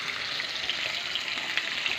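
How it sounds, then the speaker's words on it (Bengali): Continuous soft hissing sizzle of fish frying in a pan, even and fairly faint throughout, with tiny pops; no one speaks. "মাছটা ভাজা হোক।"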